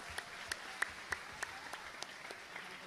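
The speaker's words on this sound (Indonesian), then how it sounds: "Maka tepuk tangan buat Gus Miftah." An audience at a live religious gathering in Brangsong, Kendal claps for Gus Miftah, fairly faint, in an even rhythmic beat of about three claps per second that sounds like unison clapping.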